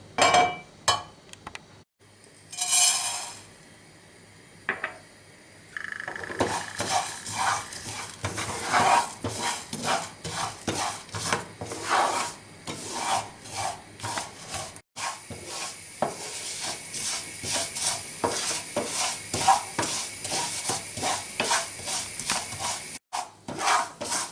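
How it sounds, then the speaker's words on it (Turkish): Vermicelli toasting in a little oil in a pot for lentil soup: close stirring and scraping with a spoon against the pot over a light sizzle, rhythmic and uneven, no talking. "Şimdi şehriyelerimi kavuracağım."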